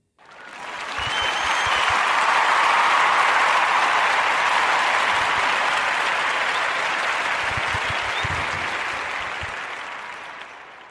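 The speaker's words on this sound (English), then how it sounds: "Round of applause for the Furlough Cheesecake Company," An audience on a podcast applauds for a featured cheesecake company, a broad, steady wash of clapping that swells quickly, holds for several seconds, and slowly fades away.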